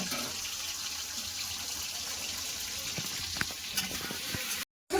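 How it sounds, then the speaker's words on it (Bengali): Steady sizzling of potatoes with salt and turmeric frying in a pan, a continuous hissing crackle with occasional louder pops, no voices. "ভালো করে লাল করে ভেজে নেব"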